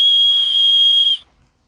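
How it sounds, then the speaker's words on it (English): A backpack's integrated safety whistle on the sternum strap gives one loud, shrill, steady blast for about a second before cutting off into silence. "on the sternum strap is an integrated safety whistle"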